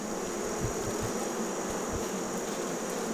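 Honey bees in an opened, mite-infested hive give off a steady, dense buzz that fills the whole stretch, with a few short low thumps from handling at the frames and no talking.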